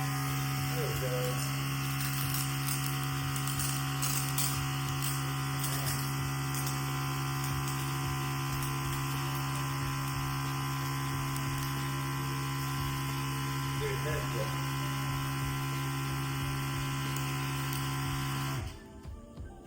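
Small electric pump on a homemade 5-gallon bucket sprayer runs with a steady, loud whining hum and buzz for most of the stretch, then cuts off abruptly near the end, leaving quiet.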